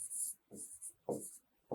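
Pen or chalk writing on a classroom board during a science lesson, a few bursts of high scratchy strokes separated by short pauses, with a teacher's low voice speaking in between.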